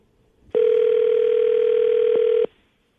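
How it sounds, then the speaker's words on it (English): A loud, steady telephone dial tone sounds alone for about two seconds, then cuts off as a call is placed to a radio morning show caller. "I'm going to call her right now, get her on the phone"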